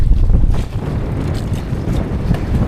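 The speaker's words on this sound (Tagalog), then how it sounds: "Malakas ang hangin." Strong wind roars steadily during night fishing, buffeting the microphone with a loud, low rumble and no other clear sounds.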